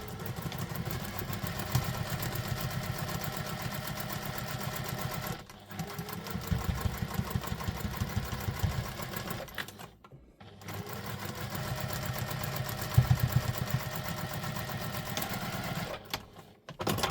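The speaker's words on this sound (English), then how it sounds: "now we're going to sew that across with the true seam allowance" A sewing machine runs a seam across a Quinn wallet, a steady close mechanical whirring that stops briefly twice before starting up again.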